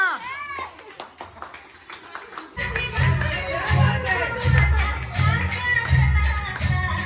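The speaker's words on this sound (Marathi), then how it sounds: "टाळ्या" Applause from a crowd at a Gauri jagran celebration after a dance performance, many hands clapping in a dense, lively burst that keeps going, with children's voices and chatter mixed in and a voice just before it starts.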